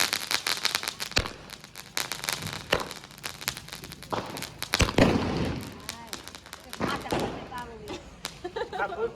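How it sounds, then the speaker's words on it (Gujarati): Firecrackers burst outdoors during village Diwali celebrations: a string of sharp, loud cracks and pops at irregular intervals, with people talking in between. "આપણે હવે જઈએ છીએ ભાઈ આપણે આ ફટાકડા લઈને બહાર ફોડવા"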